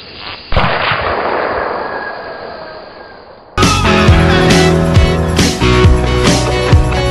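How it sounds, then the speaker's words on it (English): A gun fires once, a single sharp bang early on with a decaying tail, followed by loud music that cuts in abruptly. "Shoot the gun!"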